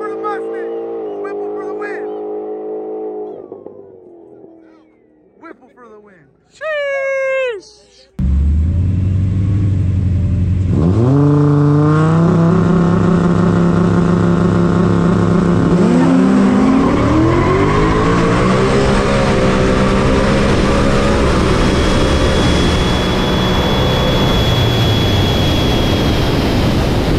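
A drag race in Mexico between a big-turbo Audi RS3 and a Whipple-supercharged Mustang: quiet engine revs and chirps give way to a sudden loud launch, with roaring engines climbing through gears and voices in the background.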